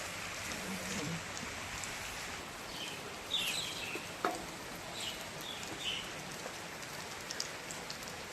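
Monsoon rain pours down steadily in a dense, even hiss of drops hitting surfaces, with faint bird chirps above it and no speech.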